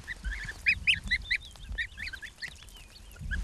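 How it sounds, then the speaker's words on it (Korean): Geese honk close by in a rapid, irregular string of nasal calls, about a dozen overlapping honks spread over a few seconds, with light rustling underneath. "Baby, do you want to come look at the geese?"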